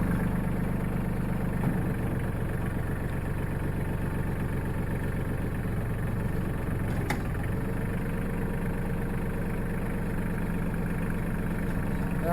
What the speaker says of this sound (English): Using my tractor to lift them up.